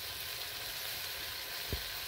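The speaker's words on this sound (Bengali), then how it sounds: "দিয়ে সব মশলাগুলো আমি ভালোভাবে কষিয়ে নেব" Spices and ground cumin paste frying in a pan of oil for a Bengali fish curry, a steady broadband sizzle held at an even level throughout, with one brief low knock near the end.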